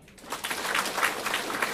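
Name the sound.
audience applause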